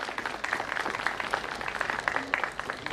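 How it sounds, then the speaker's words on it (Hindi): A crowd at an amphitheater inauguration applauds in a dense, steady wash of clapping that carries on for the whole few seconds. "आप सबकी जोरदार तालियों में"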